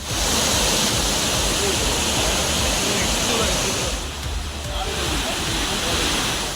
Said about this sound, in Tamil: குரங்கருவியில் திடீரென வெள்ளப்பெருக்கு ஏற்பட்டது